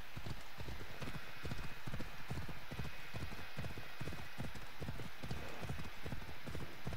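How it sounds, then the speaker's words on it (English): Several horses gallop at top speed in the video game Assassin's Creed Odyssey, their hooves clip-clopping in a steady, continuous rhythm over a dense, loud game soundscape. "Now I've got multiple horses again."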